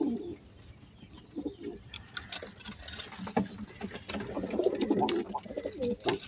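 Pigeons kept by a breeder give soft, repeated cooing in short bursts, moderately close, over faint background rustle and ambient noise with no talking.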